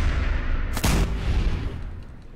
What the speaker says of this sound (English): Let me see if I can kill him with a few headshots.